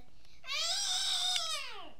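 A pet cat gives one long, drawn-out meow, loud and close, that rises and then slowly falls in pitch over more than a second, after a quiet moment with no talk.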